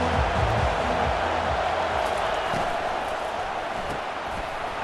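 Stadium crowd in College Football 25 at a Georgia–Tennessee game roars loudly and continuously, a dense wash of cheering that holds steady and fades slightly, with a low rumble underneath.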